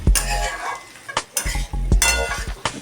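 A metal spatula scrapes and clatters against a pan as cooked, well-boiled vegetables are stirred over low heat, with loud repeated strokes and a soft sizzle beneath.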